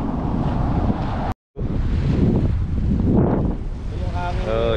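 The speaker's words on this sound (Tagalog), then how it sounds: "Iba na yung hangin" Cold wind blows hard near Akureyri, Iceland, making a loud, steady rushing roar across the microphone. The roar cuts out briefly, and a faint voice comes through near the end.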